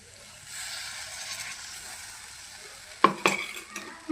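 A spoon scrapes and clinks against a pan as ground moong dal paste is stirred in oil, with a soft sizzle underneath and a few sharp metallic knocks toward the end.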